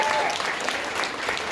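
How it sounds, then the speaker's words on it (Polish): An audience at a jazz concert by a saxophone, double bass and drums trio applauds in a brief, dense wash of clapping with a faint voice briefly audible beneath it. "wielkie brawa"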